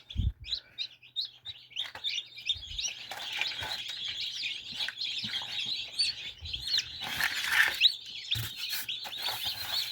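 Many chicks chirp constantly in a high, busy chorus, with occasional bumps and rustles nearby.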